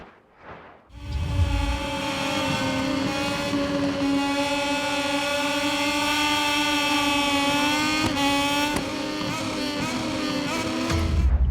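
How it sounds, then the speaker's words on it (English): A pack of racing motorcycles in MotoGP 22 (Moto2 class) with thin, moped-like engines, a brief quiet start followed by a loud sustained buzzing whine that rises slightly through gear shifts. "They sound like mopeds."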